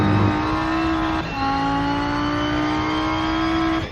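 Rennsport race car engine holding a steady high rev, a brief dip near the one-second mark as it shifts, then a loud continuous drone that eases off at the end.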